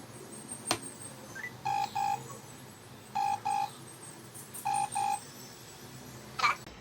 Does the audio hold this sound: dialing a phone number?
yes